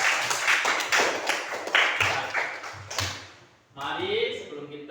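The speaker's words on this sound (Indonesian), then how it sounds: "Tepuk tangan untuk kita semua." A short burst of clapping from a group in a classroom lesson, loud and close, fading out before voices resume briefly.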